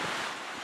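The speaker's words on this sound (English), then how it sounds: "Breezy, actually windy" Strong wind buffets the microphone in a dense, steady roar with no voices, lasting under a second.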